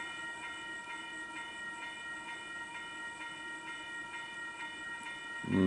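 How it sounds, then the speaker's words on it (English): A Sydney Oscar electric train draws steadily nearer to Wondabyne station, a sustained rolling hum with high tonal whine that holds level throughout, swelling louder in the final moment, with no voices. "We've got another train coming"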